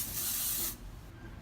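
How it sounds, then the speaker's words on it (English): Kerastase powder hairspray sprayed generously into curled hair as a short, close, steady hiss lasting under a second, then stopping into quiet. "I'm going to use powder bluff, and I'm going to spray pretty generous into the hair"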